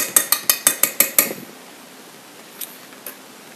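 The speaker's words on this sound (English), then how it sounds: "So when mixing up the egg, you can use two utensils, the fork or the whisk." A fork beats raw egg in a bowl with about eight quick, evenly spaced clinks against the side, close and crisp, then stops, leaving two faint taps afterward.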